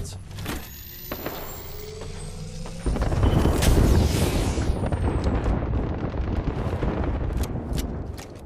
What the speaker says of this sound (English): There is an airstrike inbound.